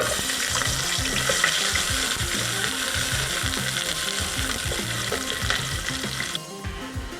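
Chopped onion sizzles in hot oil for a spicy pork ribs curry, a constant loud crackling fry layered with rapid ratcheting scrapes and clatter of stirring that stops briefly near the end.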